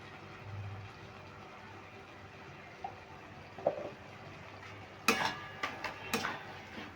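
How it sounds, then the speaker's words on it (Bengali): A spoon works mochar dalna, a banana-flower curry with ghee, around a pan, giving faint scattered scrapes and then a few sharper metallic clinks and knocks close by. "ঘিটা দিয়ে একটু নাড়াচাড়া করে নেব"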